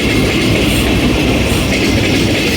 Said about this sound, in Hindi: 9022 के साथ ट्रेन है।